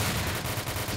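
Continuous automatic gunfire from a tactical military shooter game, a dense, rapid rattle of shots with steady pulsing bursts filling the whole moment at close range.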